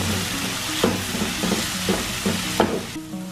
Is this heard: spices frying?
yes